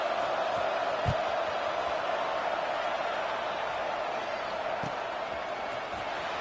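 Steady roar of a stadium crowd in College Football 26 during a fourth-quarter kickoff, a broad sustained wash with a few louder thumps, no clear separate voices.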